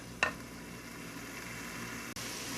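Meat and other ingredients for Tunisian nwasser cook in a pot with a soft, continuous sizzle and a low bubbling murmur, plus one brief sharp pop near the start.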